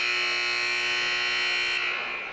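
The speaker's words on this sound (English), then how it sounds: "Oh, that's the buzzer." A gymnasium buzzer sounds at a high school basketball game between the Jasper Vikings and Cold Springs Eagles, signalling the start of the second half: one long, loud, steady electronic drone that fades slightly at the end, with no talking.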